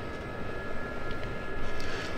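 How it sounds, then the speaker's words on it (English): A CH-47 Chinook helicopter in the DCS World flight game drones past as a steady rumbling engine roar that swells slightly toward the end, heard alone without talk. "there goes a Chinook"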